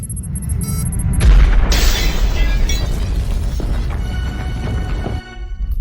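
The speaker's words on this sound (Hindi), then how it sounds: "अचानक आगे के कार्गो डिब्बे में विस्फोट हो गया।" An explosion in the forward cargo hold of Air India Flight 182 in flight: a loud, deep boom followed by several seconds of roaring, crackling rumble that then cuts off abruptly.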